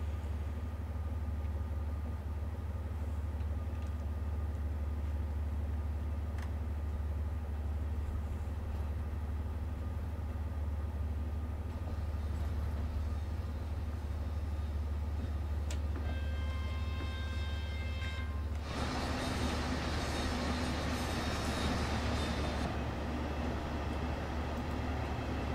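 A DB BR 363 diesel shunting locomotive in Train Sim World 2 idles and creeps forward slowly with a steady low engine drone, then a louder burst of hissing and mechanical noise near the end.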